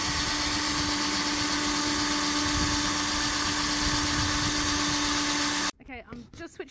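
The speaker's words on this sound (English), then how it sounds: "I'm just switching over drills quickly because we weren't getting enough power from the battery operated one" A battery drill cutting a circle into a metal shovel makes a loud, continuous grinding whine for several seconds, then stops abruptly, after which a person talks.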